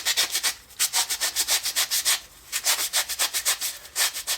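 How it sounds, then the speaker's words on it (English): Small wooden rings cut on a scroll saw are sanded by hand to remove burrs, giving rapid, rhythmic rasping strokes in quick bursts with a brief pause between runs, close and clear. "we'll just give each one a sanding to remove any of the burring from the scroll saw"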